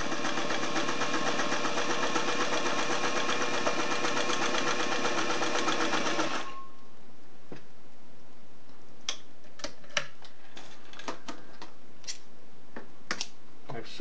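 A Singer 503A slant-needle zigzag sewing machine runs with a loud, steady mechanical whir for about six seconds, then stops abruptly, leaving scattered clicks and small taps.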